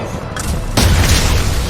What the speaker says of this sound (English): I'll get my sniper shots off.